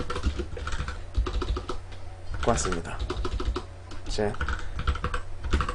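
Rapid clicking of keys on a computer keyboard continues throughout, with someone briefly speaking between bursts of typing.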